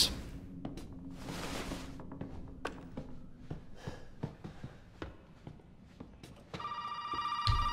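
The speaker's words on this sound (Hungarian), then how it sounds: "Csörög a telefon." Telephone ringing in the horror video game Resident Evil 7, a series of sharp bright rings spaced over several seconds amid quiet thumps and footsteps, with a brief electronic tone near the end.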